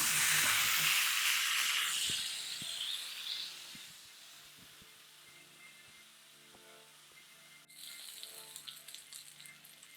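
Steak searing in a piping hot pan without added oil, a loud bright sizzle at first that settles into a steadier, softer frying hiss, with a few light clinks of utensils.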